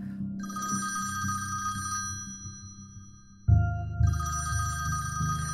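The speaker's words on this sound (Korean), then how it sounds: "새벽에 전화 한 통화가 오는데" A telephone rings in the early morning hours, two bright trilling bursts of ringing separated by a short pause, over a low rhythmic musical backing.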